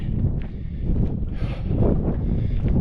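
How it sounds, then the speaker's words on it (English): Constant low rumbling cold wind buffeting the microphone outdoors high on Pikes Peak's northwest slope, steady and fairly loud, with faint rustling and no voices. "it's kind of cold and windy up here"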